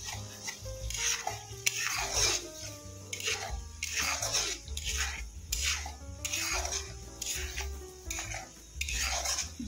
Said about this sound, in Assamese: এইখিনি এতিয়া মই খুব ভালকে ভাজি লম